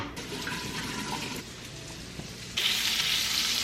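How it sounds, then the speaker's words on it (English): Steak sizzles and fries steadily in a hot pan, a loud, dense crackle throughout that jumps brighter and hissier toward the end as the meat settles in. "now we're gonna throw our steak in here."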